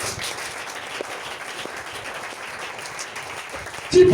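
An audience claps and applauds steadily throughout, fairly distant and diffuse, with a short louder burst at the very end.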